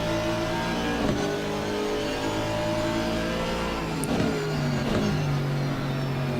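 GT3 race cars lapping Brands Hatch in Assetto Corsa Competizione, several engines droning and shifting pitch as cars pass, with steady loud engine noise throughout.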